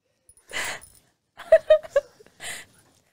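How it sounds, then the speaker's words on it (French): A dog sound effect played during a live stream: short yelps and whimpering barks in a few separate bursts, with brief breathy sounds before and after, fairly quiet and isolated with no talk over it. "notez bien ce bruit de chien"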